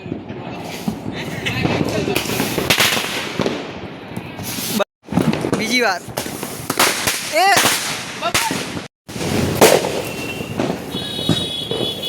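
Diwali firecrackers go off during a celebration among friends in Gandhinagar: loud sharp bangs and crackling bursts, some with rising whistles, while people shout and talk over them.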